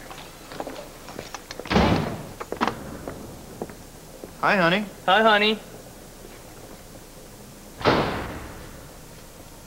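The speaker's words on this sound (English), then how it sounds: "You really have to talk to her about slamming those doors." Doors in a house are slammed several times, loud and close, with sharp bangs spread across the scene as people exchange greetings in between.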